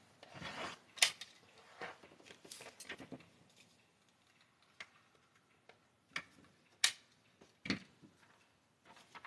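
Scissors trimming excess fabric along a stitch line during a Vortex build, with a few quiet, separate snips and rustles spread across a mostly hushed workspace.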